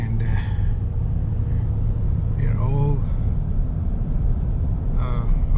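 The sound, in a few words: rescue trucks rumbling after Hurricane Dorian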